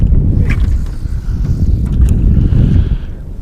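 Wind buffets the microphone on a fishing boat out on the water, a loud, continuous low rumble with gusty fluctuations over a few seconds.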